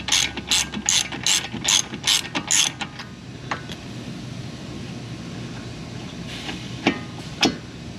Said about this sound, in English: So I apologize for all the ratcheting sounds,